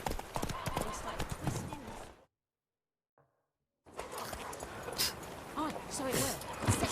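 The horse Roach clip-clops along in The Witcher 3, steady close hoofbeats in a quick rhythm that break off into a pause of near silence and then carry on.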